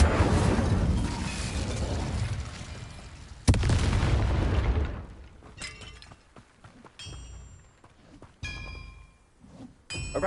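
A fire spell cast in Hogwarts Legacy, a loud burst with a boom and crackling, shattering impacts, followed by scattered clinks and smaller pops as the effect fades, with no talk.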